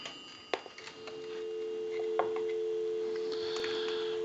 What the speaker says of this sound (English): So we want to go ahead and give you some dial tone.